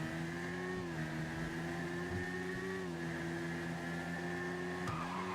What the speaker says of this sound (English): And that thing just accelerates once it gets up into like 4th gear there.